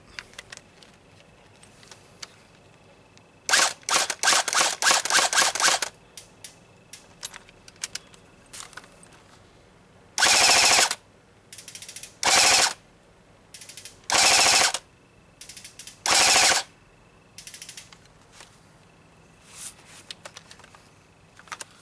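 Someone works the fire selector on an ICS L85A2 airsoft replica, producing loud mechanical bursts and clicks: a long rattling run, then several separate short whirring bursts between quieter clicks, close up.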